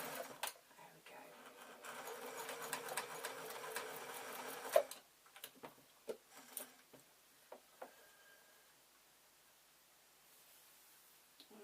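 Sewing machine stitching a large Easter shoulder bag decorated with buttons: a fast, steady mechanical rattle for several seconds that stops abruptly, followed by quiet clicks and handling knocks, all fairly faint.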